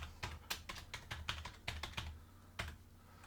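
Rapid keystrokes on a computer keyboard, a quick uneven run of close clicks with brief pauses, mostly alone in a quiet room.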